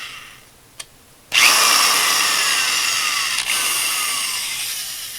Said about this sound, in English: the problem with this drill is there's no way to limit the force coming out of it